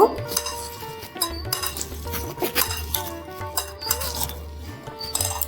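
Chopped onion and green chilli mixed by hand with salt and turmeric in a bowl make close, uneven squishing and rustling, punctuated by clinks and knocks against the dish, with no speech.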